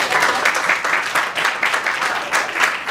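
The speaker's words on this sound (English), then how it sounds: "give them a nice round of applause." An audience claps for improv performers, lively close applause with a loose rhythm of individual hand claps running steadily for a few seconds.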